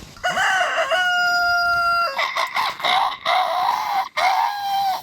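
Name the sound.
rooster crowing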